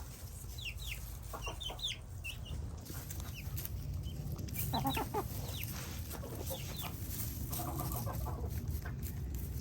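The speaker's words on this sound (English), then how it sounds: "That is going to be a pretty rooster right there." Chickens, including a young Wyandotte rooster, cluck and chirp softly at a distance on a homestead, with scattered calls over a steady low rumble of background noise.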